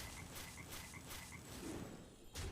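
A frog croaking in the Hearthstone Battlegrounds card game, a repeated soft croak pulsing every half second or so over a busy, noisy game background, ending in a sudden thump.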